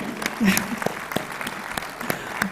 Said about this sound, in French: Je vous prie de les applaudir très fort.